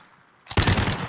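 Desert Eagle pistol fire in Call of Duty Warzone: after a short quiet moment, a loud burst of rapid close gunshots.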